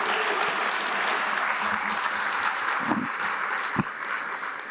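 Audience applause at an event where a Good Shepherd Award is about to be presented, a moderate, even wash of clapping that thins slightly toward the end, with a couple of low thumps.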